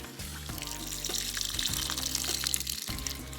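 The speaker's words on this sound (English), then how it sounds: "I will give it water nonetheless" Water poured from a container onto a potted houseplant, a steady splashing pour running close and continuous with brief pauses between pours.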